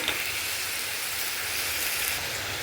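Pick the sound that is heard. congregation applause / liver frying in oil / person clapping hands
liver frying in oil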